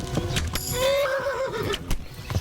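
A horse whinnies in the medieval video game Kingdom Come: Deliverance, a loud, wavering neigh close by, with hoof clops and thuds of combat around it.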